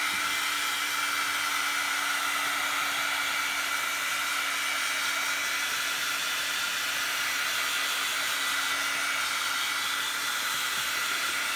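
A hair dryer runs steadily and close by, drying decoupage junk journal pages side by side, its airy whoosh constant and unbroken with no talking.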